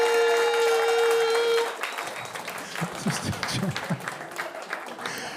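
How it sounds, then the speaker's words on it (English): Audience applause and cheering at a London comedy show, loud and dense, starting over a fading musical tone and continuing as a sustained crowd roar with scattered claps. "let's keep that applause going and build it up for our second act"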